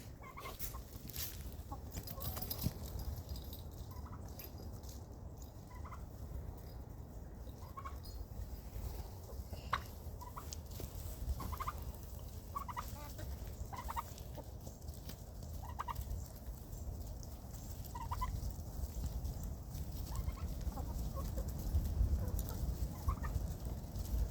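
Hens cluck and gobble-like calls rise repeatedly over a steady low rumble, a busy flock of chickens singing the laying song continuously throughout.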